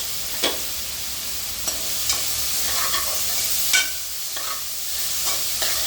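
Vegetables stir-fried in a pan for veg biryani, a steady close sizzle with a scrape or stir clicking in every second or so, no talk.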